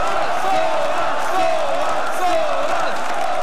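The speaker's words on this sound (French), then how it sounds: "Je crois qu'on a pas assez acclamé, encore une fois." Packed esports arena audience at the League of Legends Worlds 2015 cheering loudly, a continuous roar of voices with rising whoops and shouts swelling over several seconds.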